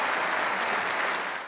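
Conservative party members at a conference applaud and cheer for Liz Truss, a steady dense wash of clapping heard up close that fades slightly at the end.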